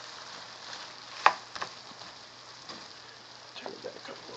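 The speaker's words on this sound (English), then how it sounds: "We're going to stir it all up and cook it up good." Garlic chicken and bok choy with a little broth stir-fry in a pan, a faint steady sizzle with a sharp spatula scrape and scattered light clicks from stirring, quiet and close.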